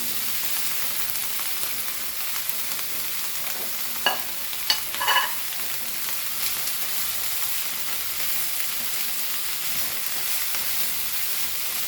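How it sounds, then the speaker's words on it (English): Meat for a Goan green pork dish frying in a pan, a steady broad hiss throughout with a few brief stirring clinks near the middle, moderately loud and without talk. "Now we'll add our meat to this."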